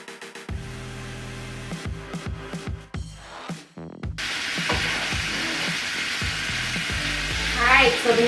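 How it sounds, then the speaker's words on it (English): Prime rib meat frying for tacos, a loud steady sizzle that fills the clip, interrupted by several sharp clanks and stirring knocks in the first half, then a continuous hiss rising slightly near the end. "Alright, so the meat is cooking better over here."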